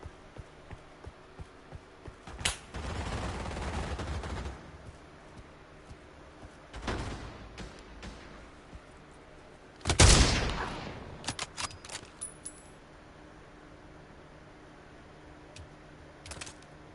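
Gunfire in Pavlov, a few scattered shots and short bursts separated by long quiet stretches, with one louder cluster near the middle and fainter pops later, moderately distant.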